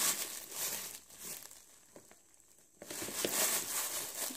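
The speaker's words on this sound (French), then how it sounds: "Je déballe tout." Holiday gift packaging being unwrapped during a Yule gift swap: close, soft crinkling and rustling of paper in bursts, with a brief quiet pause partway through.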